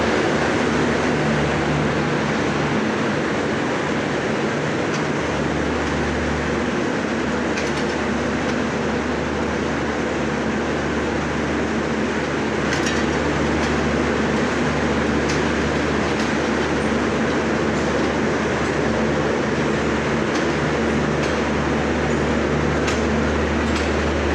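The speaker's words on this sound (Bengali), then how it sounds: "ট্রেন ছেড়ে দিচ্ছে অলরেডি।" A long intercity express train pulls out, its heavy steady rumble and rattling wagons filling the scene with occasional sharp metallic clicks, continuous and close with no talking.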